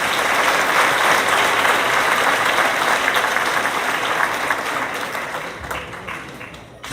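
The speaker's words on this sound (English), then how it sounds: "Please give them a round of applause." Concert audience applauding a school choir at a spring band concert, loud sustained clapping that gradually thins and fades toward the end, with a few last claps.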